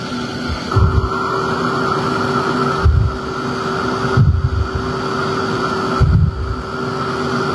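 A steady, loud blowing hiss from a heat embossing tool reaching about 450 degrees, used in card making, runs throughout, with a few brief low thumps breaking in at intervals.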